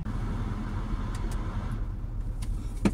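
A Land Rover Discovery 3 cruises along a road, its engine and tyre rumble a steady low drone from inside the cabin, with a few faint clicks or knocks rising over the noise near the end.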